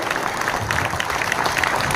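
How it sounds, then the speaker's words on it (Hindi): A crowd at an election rally for a ward 43 public meeting applauds loudly and steadily, a dense wash of many hands clapping throughout with no break. "एक बार जोरदार मोदी के लिए तो तालियां बजा दीजिए"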